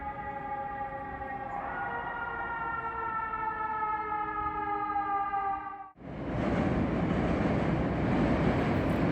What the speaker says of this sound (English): A visit to a big American city just cannot come without the sound of those sirens.